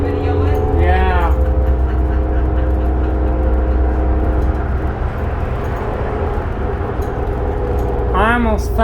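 A 2005 New Flyer D40LF transit bus engine drones loudly and steadily as it accelerates hard, with voices briefly rising over the rumble near the start and again at the end.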